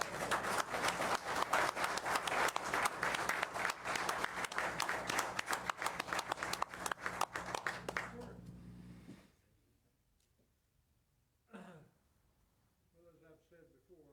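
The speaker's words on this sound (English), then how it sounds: "It's okay to clap." Council meeting audience breaks into sustained loud applause for about eight seconds, then it fades to near silence before a brief voice and soft talking follow.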